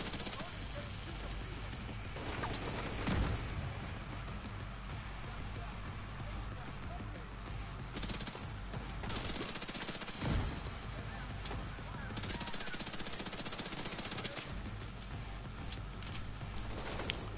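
A mounted machine gun fires in a video game, steady heavy bursts running almost the whole time with a few sharper booming impacts, loud and close, while voices speak over the action.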